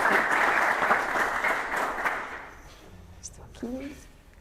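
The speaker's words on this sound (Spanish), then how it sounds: "un aplauso para Saúl y comenzamos." An audience at a Creative Mornings talk in Oviedo claps loudly to welcome a speaker, a dense applause that fades out after a couple of seconds, followed by a brief voice.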